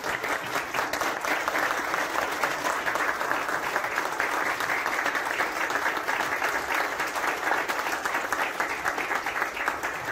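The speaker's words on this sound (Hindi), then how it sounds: "कम से कम 2 मिनट तो आपकी ताली बंद नहीं होनी चाहिए" Sustained, dense applause from an audience at a Christian community meeting held at a BJP state office, loud and even throughout with no break and no speech over it.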